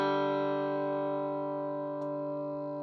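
A clean electric guitar sustains a bright, ringing chord through a Lemtone AB763-preamp amplifier, fading gradually with a faint tap partway through.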